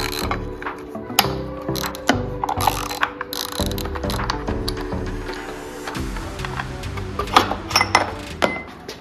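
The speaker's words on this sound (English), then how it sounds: "I'm going to use my 6 millimeter Allen. Loosen up these clamps." A 6 mm Allen key loosens wheel clamps on a 2022 Kayo K6 EFI dirt bike, making bursts of sharp ratcheting clicks and metallic tool handling close up, with short pauses between strokes.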